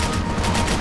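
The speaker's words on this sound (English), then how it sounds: "I gotta shoot those out of the air" Gunfire in the video game Max Payne 3, a dense, continuous fusillade of loud shots with heavy low-end rumble, sustained without pause.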